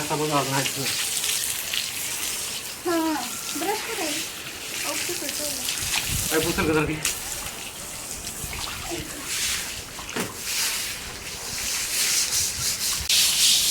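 Continuous wet scrubbing of a terrace floor, brush rasping against the soaked surface with water splashing, while several voices talk intermittently throughout.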